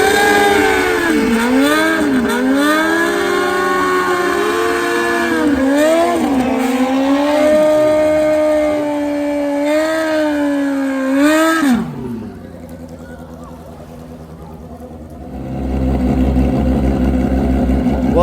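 Nitrous-fed drag bikes such as Hayabusa and ZX14 street-tire machines scream loudly up through rapid gear shifts during grudge racing, then the roar drops away before a lower rumble returns.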